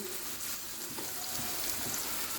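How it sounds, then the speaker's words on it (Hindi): Chicken toast frying in a pan over a slow flame, giving a steady, soft, continuous sizzle with fine crackle throughout, fairly quiet and close, with no talking. "इसको हम स्लो फ्लेम पे जो 2 से 3 मिनट फ्राई करते हैं"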